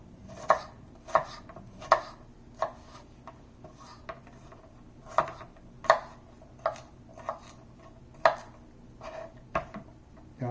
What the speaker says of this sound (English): We're just going to dice each of these up. No particular formation, we're just chopping away.